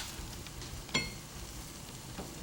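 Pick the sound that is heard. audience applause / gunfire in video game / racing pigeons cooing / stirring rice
stirring rice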